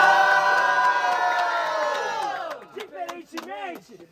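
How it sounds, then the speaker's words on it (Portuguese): A crowd at a student rap battle final roars with a sustained, loud, many-voiced yell that tapers off. Scattered whoops and shouts follow as the cheering dies down. "Barulhos pra quem gostou da rima do Vic V"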